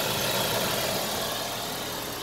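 A 2006 Volkswagen Passat estate with a turbocharged FSI petrol engine idling, a steady, even engine hum heard close by without speech.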